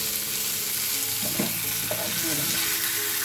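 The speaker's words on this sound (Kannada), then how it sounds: "ಟೊಮೊಟೊ ಕೂಡ ಸಾಫ್ಟ್ ಆಗೋ ತನಕ ನಾವು ಫ್ರೈ ಮಾಡ್ಕೊಬೇಕು" Chopped tomato fries in a pan with a steady broadband sizzle while a utensil stirs through it, giving a few scraping strokes near the middle. No one speaks.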